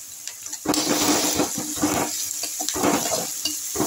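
Chopped garlic goes into fried onions in hot oil, setting off a loud, steady sizzle with crackling bursts and the scrape of stirring, close and without talk.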